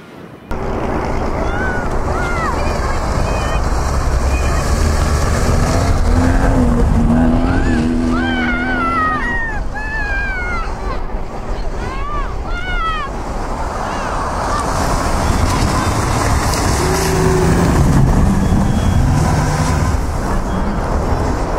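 Car engine on an off-road ride, a steady loud drone that rises and falls in pitch as the vehicle pulls away and works over rough ground, continuous throughout.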